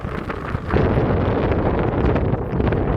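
Strong wind sweeping across a hilltop at Sada Waghapur near wind turbines, a loud steady roar buffeting the microphone that swells sharply after a moment and stays heavy, with no voices.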